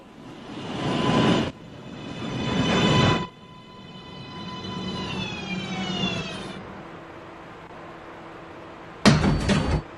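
A downtown NYC Subway 1 train pulls into Chambers Street station. Bursts of rushing noise give way to a falling, whining motor tone and a low hum, then a sharp clatter near the end.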